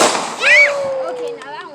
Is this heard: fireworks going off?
yes